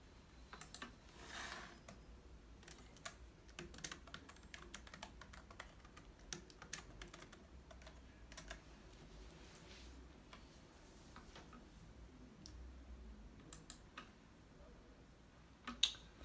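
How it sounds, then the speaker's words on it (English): Password being tapped out on a computer keyboard, soft irregular keystroke clicks close by and fairly quiet, with no talking. "So Annie is going to put in her password now and unlock the wallet."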